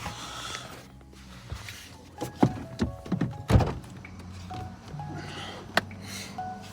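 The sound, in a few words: door being opened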